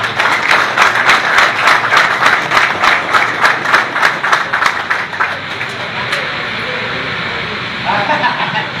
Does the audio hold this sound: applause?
yes